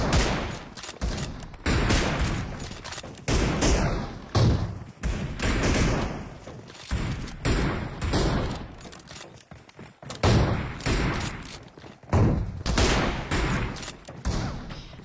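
Rifle gunfire in dense, loud rapid bursts of sharp bangs and thuds, nearly continuous with brief gaps, close and harsh.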